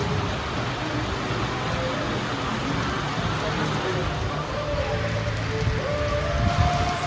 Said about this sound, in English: On one side of the property, it's pouring down rain and black clouds.